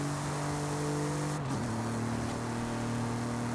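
Car accelerating along a highway in Forza Horizon 5, engine droning loud and steady with a shift in pitch midway as it changes gear, continuous throughout with no talk.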